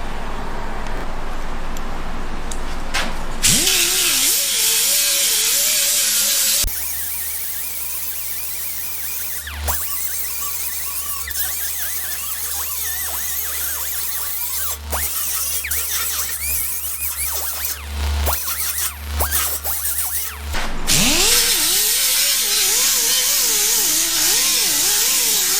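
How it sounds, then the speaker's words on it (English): Metal grinding on a car body during rust repair, with a new replacement panel being fitted: a loud, steady abrasive whine runs for long stretches, dipping and pausing briefly in between, close to the microphone with no talking. "I'll do a little bit of grinding"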